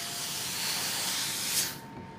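Steam iron pressing a quilt block, giving a close, steady hiss of steam that swells briefly and then cuts off near the end.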